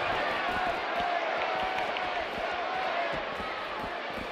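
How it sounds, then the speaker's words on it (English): A video game wrestling arena crowd in WWE 2K19 roars steadily throughout, a dense, constant wash of cheering with faint rhythmic thumps underneath. "by the sound of this crowd, I think they're getting what they wanted"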